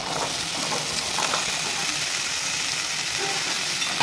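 Cut potatoes fry in hot spiced masala, a dense, steady sizzle and hiss heard up close with no voices.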